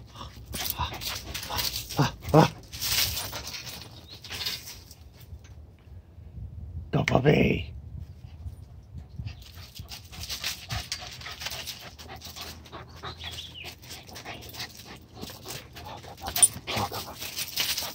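Puppies whimper and pant in short, uneven bursts, with a louder yelp partway through and light background noise throughout.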